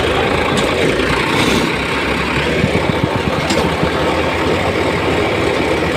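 Tractor engine labouring while stuck in mud, a loud heavy rumble with uneven throbbing and bursts of strain, close up, with outdoor noise and faint voices in the background.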